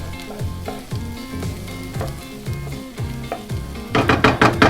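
Calabacitas, a squash guisado, fry and sizzle in a pan, a loud close hiss with stirring scrapes, under rhythmic background music and a brief burst of clattering near the end.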